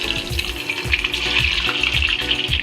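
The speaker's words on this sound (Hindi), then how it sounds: "इसके बाद लहसुन डाल के ब्राउन कर लें।" Garlic browning in hot oil with red chillies for a dal tempering, a bright continuous close sizzle with a rhythmic pulse of stirring underneath, no voices.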